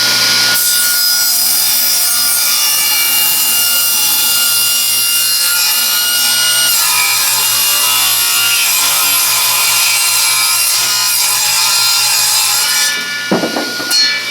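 An old, freely acquired table saw cutting through wood in one long, steady, loud pass, with a harsh, rough rasping tone that ends in a brief knock near the close. No one speaks.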